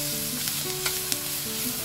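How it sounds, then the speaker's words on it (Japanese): Gratin roux of butter and flour sizzles steadily as it is stir-fried with cooking chopsticks, close and continuous with a few faint scraping clicks and no talk. "続き菜箸で炒めていきます"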